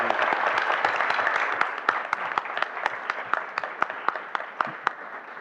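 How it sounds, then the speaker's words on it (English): Applause for retirees at a school board meeting: a modest group clapping, at first blended, then thinning into distinct, sparse claps that fade out. "Let's give them another round of applause for their round."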